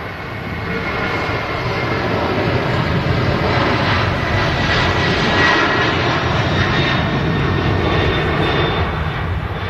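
A TUI Boeing 767 jet takes off at Manchester Airport with a loud, sustained, broad engine roar that holds steady throughout, with no voices.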